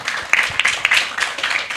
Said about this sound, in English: Yes, please, a round of applause for our panelists.